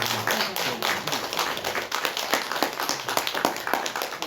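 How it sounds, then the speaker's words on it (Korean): A church congregation at a Sunday service claps in thanks, a lively stream of many hands slapping in a loose, fast rhythm that carries evenly from start to finish, close and without speech over it. "우리가 박수로서 감사한 마음 표현하겠습니다"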